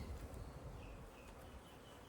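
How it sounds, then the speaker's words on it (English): Honeybees in a top bar hive on first inspection day give a steady, close, low droning buzz that holds evenly throughout, with no talk over it. "So the bees are all nice and secure in here."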